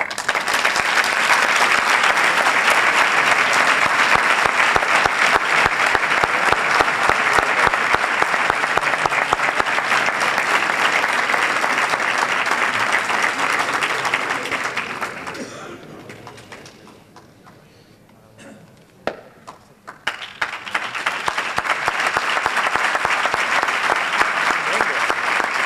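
Long, loud sustained applause from a crowd at a local police ceremony honouring a retiring officer, dense clapping that fades out briefly in the middle before surging back to full strength.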